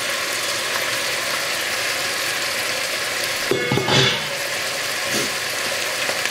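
Vegetables fry in a pot and give off a steady, hissing sizzle. A short clatter of stirring or a utensil knocks in partway through, and then the soft sizzling carries on alone.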